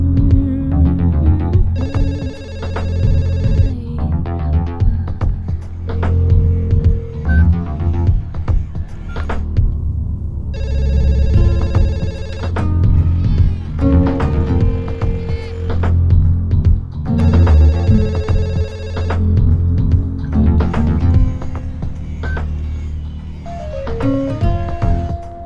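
A telephone rings repeatedly in regular electronic bursts, loud and close, over a continuous music or background bed with no speech.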